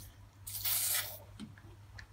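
WD-40 sprays in one short hissing burst into the fold mechanism of a TFK Joggster Twist Lite stroller, followed by a few faint drips and small clicks nearby.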